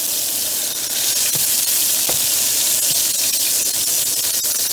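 Swordfish steaks sizzle on a hot grill over medium heat, a steady, close hiss with scattered crackles and pops that continues evenly throughout.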